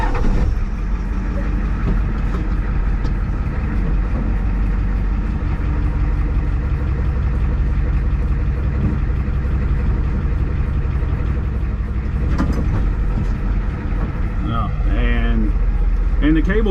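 A truck engine rumbles steadily while backing up to winch a stalled church bus, a loud low drone throughout; a voice talks over the engine.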